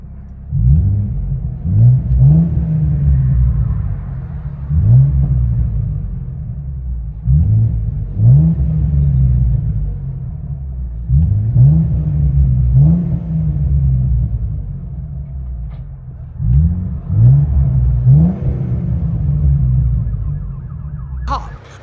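A 2011 Ford Mustang V6 with the top down is heard from inside the cabin, with a steady low rumble and repeated rising revs roughly every few seconds throughout.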